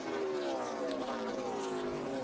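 NASCAR Nationwide race cars roar down the back stretch at Kansas Speedway on the final lap, a loud, continuous engine drone whose pitch sweeps slowly downward as the cars pass.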